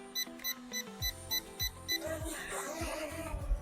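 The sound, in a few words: toy quadcopter drone beeping before a flip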